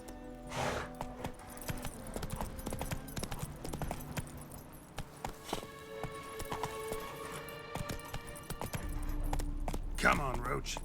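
Roach the horse gallops in The Witcher 3, a steady clip-clop of hooves with a brief whinny near the end, heard under game music and sounds.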